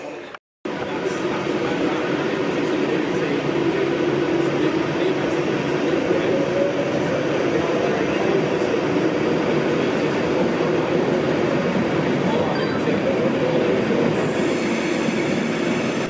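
A ScotRail train unit sits at a station platform, its steady engine and equipment hum droning continuously with faint rail clatter, and a soft voice briefly underneath.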